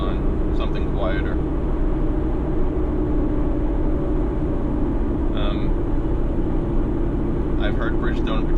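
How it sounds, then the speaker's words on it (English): Loud, steady tire roar fills the cabin of a Nissan 370Z Nismo with a stock exhaust on a Tennessee road. The broadband drone is continuous and drowns out the engine, with faint voice fragments over it. "It's a totally stock exhaust, but I can't hear anything because the tires are so loud."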